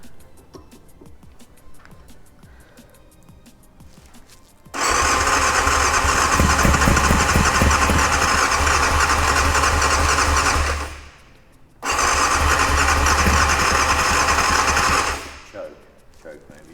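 A 1989 Yamaha FZR600 motorcycle engine cranks and catches, running loud and steady for several seconds, cutting out, then firing again briefly before dying, with quiet talk before the first attempt.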